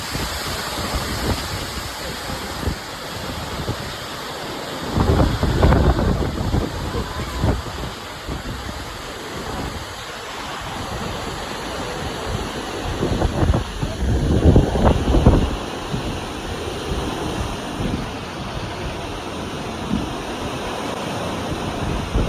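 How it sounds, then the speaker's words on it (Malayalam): Heavy wind and rain at Kuttippuram railway station make a continuous roaring rush with strong gusts buffeting the microphone, swelling loudly around the middle and easing between, with no talk. "കാറ്റും മഴ, ഭയങ്കര കാറ്റും മഴ."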